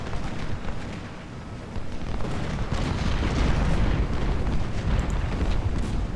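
Artillery cannons firing in a Civil War battle at Shiloh in the strategy game Ultimate General: Civil War, a dense continuous rumble of booms and blasts rolling on at a loud, steady level without speech.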